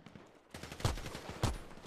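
In a PvP shooter video game, two loud bursts of gunfire ring out about half a second apart over a quiet background, each with a sharp crack and brief echoing tail.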